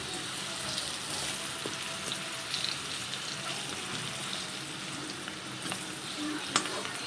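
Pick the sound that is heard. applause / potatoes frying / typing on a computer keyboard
potatoes frying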